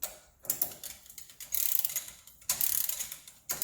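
A torque wrench ratchets on Tatum sand rail hub bolts, close, crisp clicking in short repeated bursts with brief pauses between strokes, no talking.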